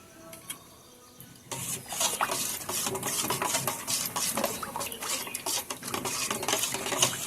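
Strained sour yogurt stirred in a steel bowl for sweet curd: after a quiet start, a steady run of close scraping and light metallic clinks carries on without pause, with no talking.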